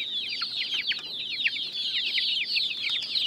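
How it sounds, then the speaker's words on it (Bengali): A rooster clucks and chatters on a Bangladeshi poultry farm, a quick run of repeated calls that stays fairly close and steady throughout, with no talking. "এই মোরগটা খুবই সুন্দর, সুন্দর না?"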